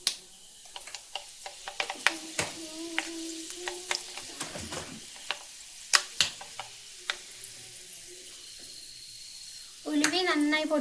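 Half a spoon of fenugreek seeds fries in hot oil for a homemade mango pickle, giving sparse, close ticks and light sizzling with a low hiss underneath, and a voice speaking briefly at the end.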